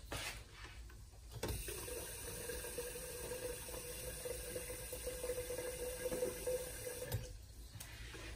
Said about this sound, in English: get some water going on the kettle.